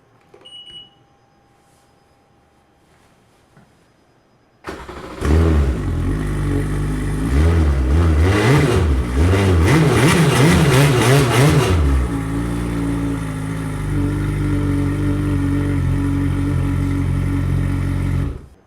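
A jet ski engine fitted with a KP stainless steel exhaust starts after a quiet pause, revving loudly in repeated surges before settling into a steady, throaty idle close by.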